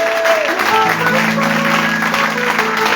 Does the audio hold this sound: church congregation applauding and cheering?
yes